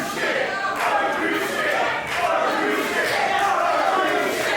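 Wrestling crowd at a live match between Michael Oku and Safire Reed, heckling Oku in a steady, dense roar of voices and shouts that rises and swells throughout, close and loud with no clear breaks.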